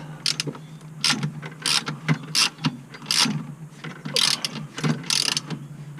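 A ratchet tightens a fastener on a 1968 Ford Mustang California Special, giving repeated rapid clicking bursts in an uneven rhythm of about a dozen strokes, close and loud, without talk.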